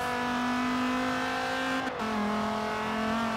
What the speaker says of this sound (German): Dann haben wir mal Dodge Viper Motor hier am Start.